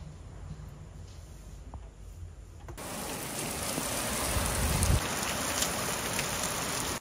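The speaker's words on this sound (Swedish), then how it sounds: "Jävlar vad det regnar." Heavy rain pours down outdoors at the Falsterbo Horse Show, a dense steady hiss of drops on surfaces that grows louder and fuller after the first few seconds, with no voices.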